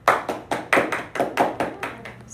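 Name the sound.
people clapping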